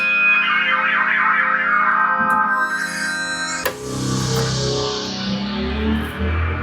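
A warm vintage analog synthesizer with resonant filter and noise generator plays sustained, effect-laden tones with echo and distortion, bright chords giving way to a deeper, bass-heavy passage after a sharp change midway; no voices.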